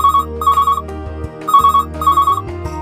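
Incoming phone call ringtone on a call-in show: a loud electronic melody in short repeated bursts, four phrases with brief gaps between them, close and alone without talk.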